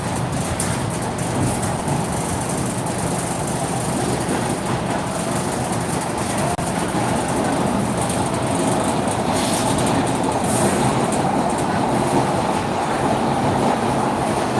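Steady rumble and rattle of a train running on rails, heard from inside a carriage, with continuous broadband wheel noise and faint clickety-clack throughout at a constant loud level, no talking.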